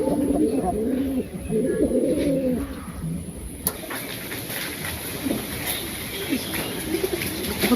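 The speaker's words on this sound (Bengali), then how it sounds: "কি সুন্দর ডাক নিয়েছে কবুতরে" Pigeons coo in soft, repeated low rolling calls at a village house courtyard, clearest through the first few seconds, then fading under steady outdoor background noise with a sharp knock midway.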